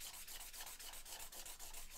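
Soft, gritty rubbing of charcoal being smoothed across paper, a faint, steady scratching with quick repeated strokes and no voices.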